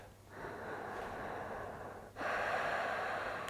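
Slow, deep breaths during a yoga session, a long steady airy exhale followed by a fuller, louder breath, close and quiet with no talk.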